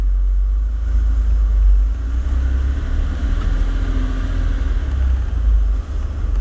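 A Porsche 964 Turbo engine drones steadily from inside the moving car, a loud, constant low rumble with slight swells and no talk over it.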